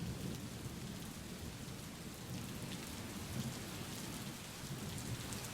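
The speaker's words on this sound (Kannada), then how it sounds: "ಹೀಗೆ ಎಲ್ಲ ಕಡೆ ಮಳೆ, ಎಲ್ಲಿ ನೋಡಿದ್ರಲ್ಲಿ ಮಳೆ." Heavy rain pouring down in Kodagu around Bhagamandala and Triveni Sangam during flooding, a dense, steady roar of rainfall with a low rumble underneath, fairly faint overall and with no voices.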